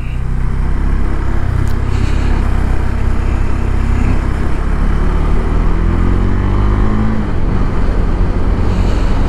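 A KTM 390 Adventure motorcycle's single-cylinder engine drones loud and close on a country lane in the wrong gear, a steady rough rumble under heavy wind roar, with its pitch sagging and then shifting near the end.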